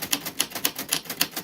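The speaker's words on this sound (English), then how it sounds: "That's what your name sounds like on a vintage typewriter" Vintage typewriter keys striking in quick succession as a name is typed, about ten sharp, evenly spaced clacks in a second and a half, close and crisp.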